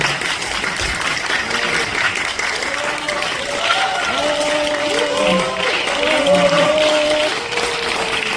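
Audience at a literary gathering applauding after a poetry recitation, sustained clapping from a hall full of people, steady and fairly loud, with voices talking over the applause partway through.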